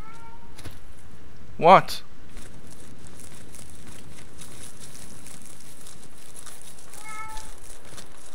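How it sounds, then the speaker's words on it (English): A house cat meows once, loud and close, briefly rising over the steady noise of a Call of Duty Modern Warfare Remastered session, with a short spoken word and another faint meow a few seconds later. "Sorry about that, is my cat."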